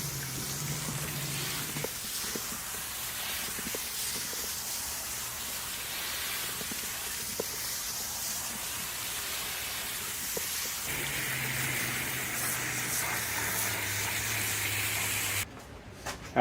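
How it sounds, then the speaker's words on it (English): Water from a garden hose nozzle sprays onto a Pentair pool cartridge filter as a continuous hissing wash that shifts in tone as the spray moves, then cuts off near the end. "You can spray down, you can use just the end like that, or just use your normal nozzle"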